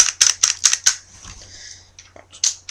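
An airsoft gun fires a quick run of five or six sharp snapping shots up close, followed by a pause and a few quieter clicks and one last shot, with no talk.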